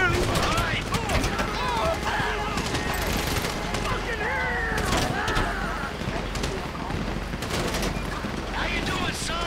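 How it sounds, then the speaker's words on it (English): Dense gunfire rattles through a Grand Theft Auto V firefight, rapid bursts and scattered shots overlapping continuously, loud and close, with voices talking over the shooting. "You hear that gunfire?"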